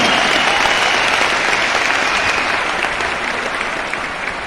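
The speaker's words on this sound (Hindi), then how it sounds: "तो सबसे पहले मैं एक बार जोरदार तालियां चाहता हूं उन लीडर्स के लिए" A large audience at a Vestige award function in Delhi claps loudly and steadily, the dense applause holding for several seconds before easing slightly toward the end.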